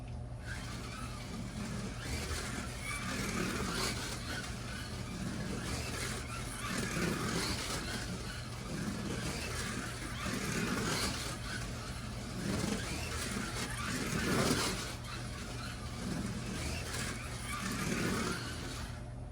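A Slot.it Maserati MC GT3 slot car laps a track with a steady electric motor whine that swells and fades as it passes, a constant close buzz with no talk.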